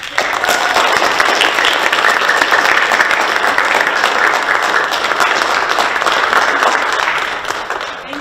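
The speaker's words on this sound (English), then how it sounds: "let's give a round of applause for her." Audience applause after a school fall play, a loud, dense and continuous clapping from a crowd that carries evenly throughout and eases slightly at the end.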